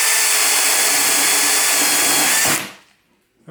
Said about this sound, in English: So now we're using a spade or paddle bit.